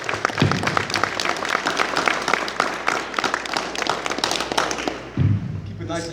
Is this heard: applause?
yes